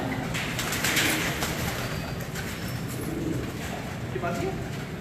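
Pigeons coo continuously nearby amid a dense, noisy background, with people talking over the birds throughout.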